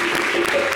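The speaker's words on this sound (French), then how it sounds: "Il mérite des applaudissements quand même." A TV studio audience at a live variety broadcast claps for an arriving guest, a brief dense burst of applause, loud and close, with no pause in the clapping.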